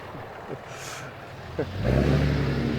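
A truck engine revs up and roars steadily after a couple of faint knocks, moderately close.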